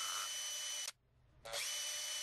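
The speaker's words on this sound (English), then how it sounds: "now I'm gonna drill them out using a 16th inch bit." A small power drill with a 1/16 inch bit whines at high speed drilling out holes in a swimbait, stops briefly for about half a second, then spins up and keeps whirring.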